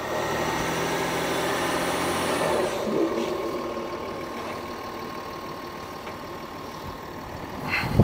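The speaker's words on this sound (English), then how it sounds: "if you could just drive up onto the pads, Kev" A ute engine idles and then rolls forward onto vehicle weighing pads, a steady mid-pitched drone that eases slightly as it moves, close and fairly loud with no voices.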